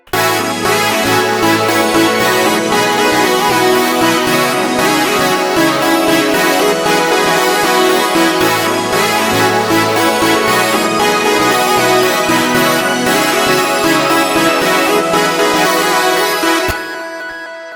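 A 2000s swag R&B type beat chorus plays loud and dense, layered synths repeating a bouncy pattern over steady low bass for about sixteen seconds before cutting off abruptly.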